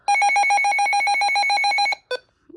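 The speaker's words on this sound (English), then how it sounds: "Here's the alert test on it." A Midland HH54VP weather radio plays its alert test, a loud close pulsing electronic warble lasting about two seconds, then one short chirp.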